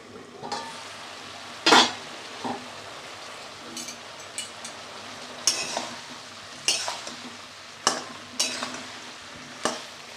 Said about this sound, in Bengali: ভালো করে এটা দিয়ে কষাবো এখন।